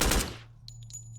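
Wall charge blown in the video game Door Kickers 2: a loud, booming blast opens and fades over half a second, then short, sharp bursts of gunfire follow.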